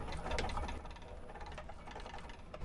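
A sewing machine back stitching at the start and end of a seam on a wristlet bag, giving a steady, close mechanical whirr with a rattly, ticking texture that stays even throughout.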